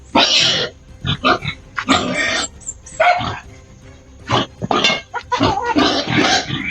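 A pig makes loud, harsh grunts and squeals in repeated short bursts separated by brief pauses, heard close up.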